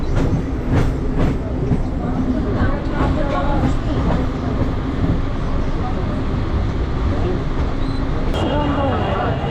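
A Mumbai metro or local train rolls along with a steady loud rumble and rhythmic clickety-clack of wheels on rails, with faint muffled voices in the carriage and a brief high squeal near the end.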